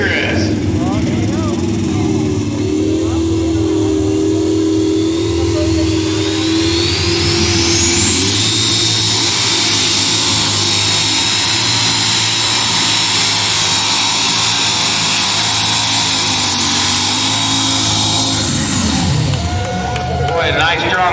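A competition pulling tractor roars loudly at a tractor pull in Newton, Wisconsin, its engine rising to a screaming high-revving whine that holds steady for several seconds before dropping off, with an announcer talking over it.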